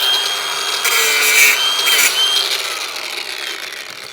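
A power tool grinds through the crown of an electric motor's windings, a loud, close, continuous harsh whine that swells in the middle and eases off toward the end, with no speech.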